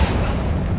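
An Accio summoning spell cast in Hogwarts Legacy gives a short, dense burst of magical force, loud and booming, lasting under a second with no pause.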